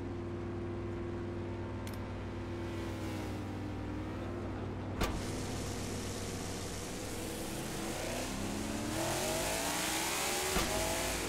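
A race car engine in a racing video game revs and accelerates with a steady droning tone that climbs in pitch, loud and continuous, with a brief tire squeal and a sharp click midway.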